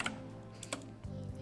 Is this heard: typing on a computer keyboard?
yes